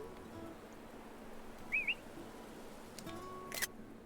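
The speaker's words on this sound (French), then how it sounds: "on a sifflé pour qu'elle lève la tête" In Animal Crossing: New Horizons, a short two-note rising whistle sounds faintly over quiet game ambience, followed by a brief bright chime near the end.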